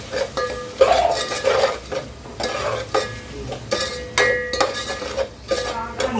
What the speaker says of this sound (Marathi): आता हे सगळं छान असं मस्त भाजून घ्यायचं